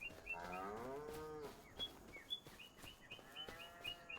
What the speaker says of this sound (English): Got a couple cows.